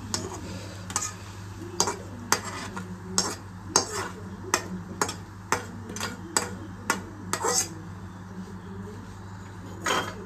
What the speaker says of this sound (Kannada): ಸೊ ಸ್ವಲ್ಪ ದ್ರಾಕ್ಷಿ ಎಲ್ಲ ಸ್ವಲ್ಪ ಬುಡ್ಡಗಾಗ ತನಕ ಫ್ರೈ ಮಾಡ್ಕೊಳ್ಳೋಣ.